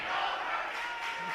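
A Titan home crowd roars and yells in a high school gym during a boys varsity basketball game against Mountain View, a dense, sustained noise with no clear breaks.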